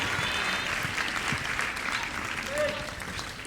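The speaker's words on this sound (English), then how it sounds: "big round of applause for your AM leader, Nathan Sarte" A ballroom crowd at a Lindy Hop jitterbug championship applauds a pro/am dance couple, steady dense clapping with a voice audible over it briefly.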